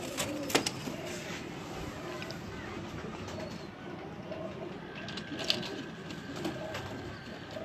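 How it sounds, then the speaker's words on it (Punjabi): Pigeons from a fancier's loft cooing softly and intermittently at a moderate distance over a steady background hum, with a couple of sharper knocks, and no clear talk. "ਇਹ ਮੇਰਾ ਉੜਿਆ ਹੋਇਆ ਕਬੂਤਰ ਹੈ ਜੀ"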